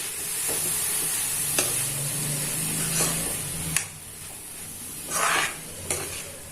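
Red poha egg upma being stirred in a hot pan, with a steady sizzle and hiss under scraping strokes of a spoon and a few sharper clinks against the pan, close up and without talk.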